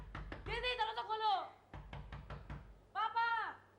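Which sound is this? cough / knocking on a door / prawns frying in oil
knocking on a door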